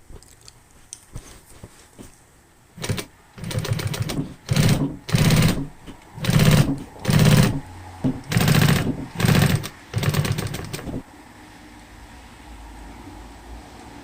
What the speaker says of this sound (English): I'm using an industrial sewing machine